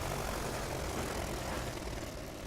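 Airship engines in the video game Worlds Adrift give a steady, loud, dense propeller-like drone that holds evenly throughout with no voices.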